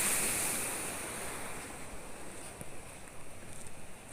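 Water rushes under a bridge after a storm in northeastern Thailand, a steady broadband roar mixed with gusty wind noise on the microphone, continuous and moderately loud throughout with no voices.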